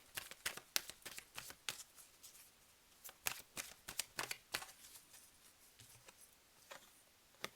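Oracle cards being shuffled and drawn for a May 2021 Capricorn reading, with a quick run of crisp card snaps and riffles, close but soft, evenly spaced ticks across several seconds, no talk.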